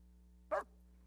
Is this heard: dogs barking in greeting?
yes